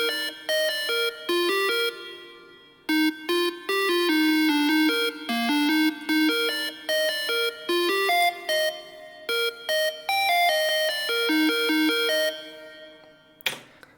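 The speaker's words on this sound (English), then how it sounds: "it's actually just a square wave with a lot of processing" A processed square-wave synth lead in a future bass style plays a bright, bouncing melody of short stepped notes with brief gaps, loud and up front, ending on a short noisy hit.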